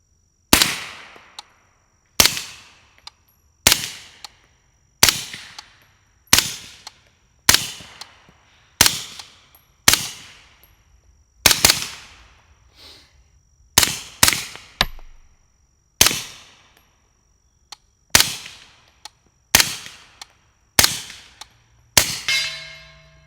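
Suppressed SilencerCo AR9 with an Omega 9k can firing 147 grain subsonic rounds, about fifteen sharp close shots at an irregular pace with metallic action clanks, ending in a quick burst of rapid shots.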